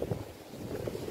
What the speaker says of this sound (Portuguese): Olha o vento aqui, a força do vento